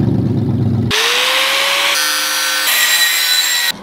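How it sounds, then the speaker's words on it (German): A power saw cuts through the metal exhaust pipe of a BMW E38 735i, a loud, steady grinding rasp with a high whining tone that shifts pitch in stages before cutting off abruptly. "wir haben gerade den kompletten Auspuff auseinandergesägt"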